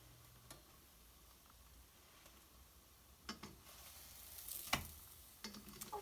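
Food frying in a pan at low volume, a soft steady sizzle with a few brief clinks and taps of a utensil pressing or stirring, no voices.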